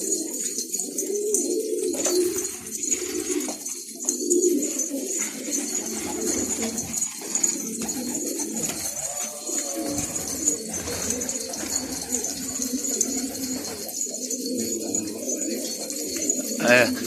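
Pigeons coo repeatedly in soft, low, rolling calls over a steady backdrop of other birds chirping, with some faint talk in the background.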